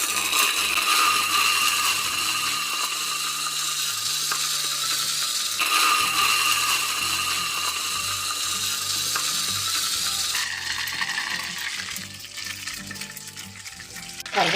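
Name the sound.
curry leaves frying in oil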